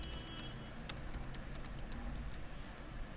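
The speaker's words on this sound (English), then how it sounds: "So, here I am typing my email address," Rapid, uneven clicking of keys on a computer keyboard while an email address is entered on a sign-up form, steady and close for several seconds with no talking.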